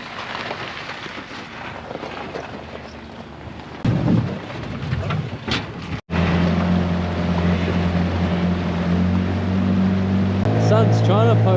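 A low motorboat engine hum drones steadily under broad rumbling noise on a foggy river; after a brief cut, the engine tone grows stronger and more tonal, running continuously.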